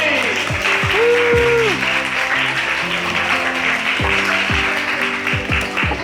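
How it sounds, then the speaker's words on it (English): A group of friends at a Korean drinking spot gives a round of applause, continuous clapping beneath loud voices, laughter and a sung or shouted note. "This is going to be a round of applause everybody!"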